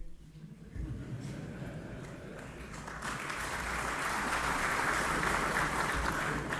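Audience applause swells steadily from a moderate patter into a dense, sustained roar of many hands clapping, heard from within a large crowd without speech.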